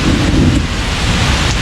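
Steady rain pours down close by through a thunderstorm, a dense continuous wash with heavy low rumbling and some wind buffeting, thunder blending into the roar rather than standing out as a separate crack.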